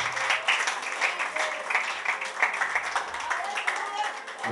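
A church congregation claps at a worship service to welcome someone forward, steady loud hand clapping with cheers and voices mixed in throughout.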